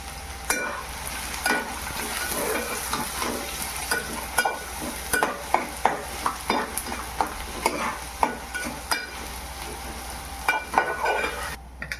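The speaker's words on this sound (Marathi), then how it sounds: "कांदा बारीक कापलेला टाकून घेते कांदा आपल्याला व्यवस्थित भाजून घ्यायचं" Finely chopped onion frying in a pan with whole spices, a steady sizzle punctuated by frequent sharp clacks and scrapes of a spatula stirring, close and fairly loud, with a low hum beneath and nobody speaking.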